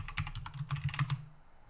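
Quick burst of typing on a computer keyboard to jot down notes, about a dozen close, soft key clicks in an uneven rhythm that stops abruptly, with no one speaking.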